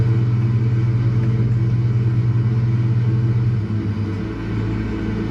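A Britten-Norman BN-2 twin-engine aircraft in a flight simulator game drones with a steady, loud engine rumble and a strong low hum, which eases slightly toward the end as power shifts.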